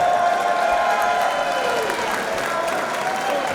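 A wrestling crowd in Newcastle roars and applauds for Lucky Kid, a dense, sustained wash of cheering and clapping at full volume with a commentator's voice running over it.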